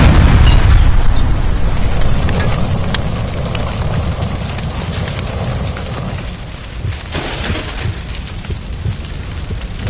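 A gas line blows up in the L.A. Noire video game, a loud booming burst at the start that decays into a long roaring rumble with crackling, rain-like debris.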